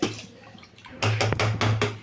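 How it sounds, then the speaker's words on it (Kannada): Water from a mixer jar is poured into a pot of rice for mushroom egg biryani, a quiet trickle first, then a series of splashing pours and drips close by. "ಅದರಲ್ಲಿ ಸ್ವಲ್ಪ ನೀರು ತೆಗೆದಿಟ್ಕೊಂಡು ಮಿಕ್ಸಿ ನೀರು ಹಾಕ್ತಾಯಿದ್ದೀನಿ."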